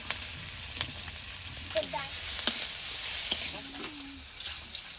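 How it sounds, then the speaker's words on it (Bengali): Whole cumin, ginger, garlic, chopped chilli and onion sizzle in hot oil with a steady hiss and light crackle, close and even, with a few faint stirring clinks. "তেলের মধ্যে দিচ্ছি গোটা জিরে আদা রসুন কোড়া লঙ্কা কুচি পেঁয়াজ কুচি"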